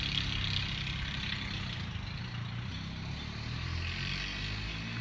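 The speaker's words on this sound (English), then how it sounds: "It's a loud motorcycle nearby." A loud motorcycle nearby, heard outdoors as a steady, heavy low engine rumble that holds at an even level for about five seconds with no clear rise or fall.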